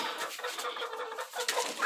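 Several hens clucking and murmuring close by in a steady, overlapping chatter, with a slightly louder call near the end.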